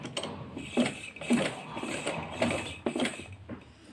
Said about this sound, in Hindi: अब हम इस गले की सिलाई लगाएंगे।